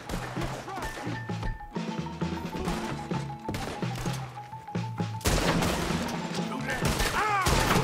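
Repeated sniper rifle shots in Red Dead Redemption 2, sharp cracks spaced irregularly amid background music, heaviest toward the end, with a voice talking at points.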